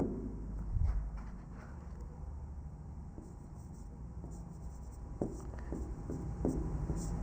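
Chalk or marker scratching on a board during a physics lesson on reflection and refraction, with steady faint strokes and scattered sharper taps in a quiet room.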